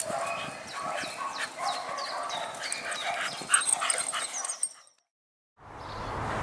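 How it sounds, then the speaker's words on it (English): A dog whimpers and whines in a string of high, yipping cries over about five seconds. The cries grow louder toward the end, then a short silence follows before a background hum returns. "What a loving dog."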